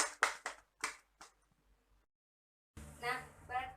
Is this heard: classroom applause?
yes